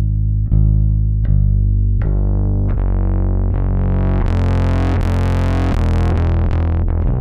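Repeated bass guitar notes plucked one after another through the Kit Plugins BB-A5 preamp, growing thicker and more distorted as the preamp is raised, with a buzzy, saturated tone.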